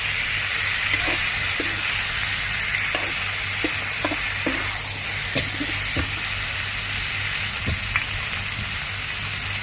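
Shrimp frying in a hot pan for mala stir-fried shrimp, a steady loud sizzle running throughout with scattered sharp pops and crackles.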